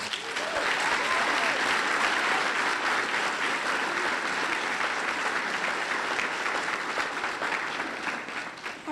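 A large audience at a school board service recognition ceremony gives a sustained, loud round of applause that stays dense and steady for the full nine seconds before easing slightly at the end.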